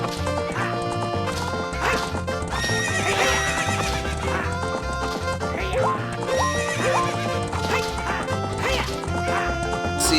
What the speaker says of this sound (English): while you spur the horse.